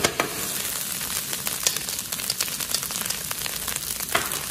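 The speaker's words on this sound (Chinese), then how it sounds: "再翻炒五六七八下即可出锅" Seaweed fried rice stir-fried over high heat in a wok, a dense continuous sizzle broken by frequent scraping and tossing clicks from the spatula, close and steady, no voices.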